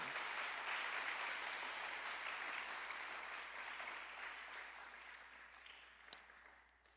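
A church congregation applauding, a dense wash of clapping that stays even for several seconds and then slowly fades, heard alone without talk.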